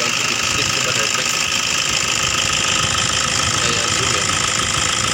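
A two-stroke diesel engine idles with a steady, dense mechanical rumble and knocking throughout, close and loud, while someone speaks briefly over it.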